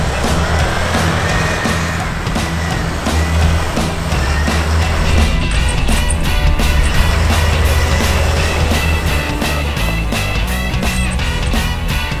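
A modded four-cylinder Jeep Wrangler charges an off-road obstacle at speed, its engine and drivetrain producing a loud, steady rumble with rattling and clatter throughout.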